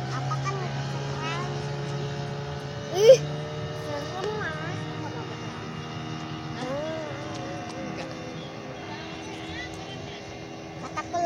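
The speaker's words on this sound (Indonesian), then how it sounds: "melalui Sungai Citanduy menggunakan perahu motor." A motor boat travelling on the Citanduy River in West Java gives a steady, low engine drone throughout, with people talking over it nearby and one brief loud knock partway through.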